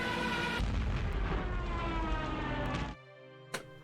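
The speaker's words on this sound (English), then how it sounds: "Airstrikes." Heavy airstrike blasts in the tank game Armoured Commander II, a long roaring explosion rumbling for nearly three seconds before cutting off, then a quieter low hum with one short sharp crack, no voices.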